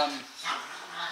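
Dogs barking at a distance in a room, a few short barks and yips under someone talking over them.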